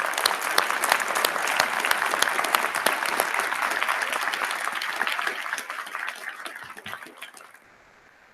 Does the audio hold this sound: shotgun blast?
no